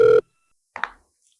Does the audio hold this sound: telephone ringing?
yes